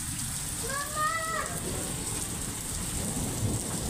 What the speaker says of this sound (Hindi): ये देखिए गाइस कितनी शदीद बारिश हो रही है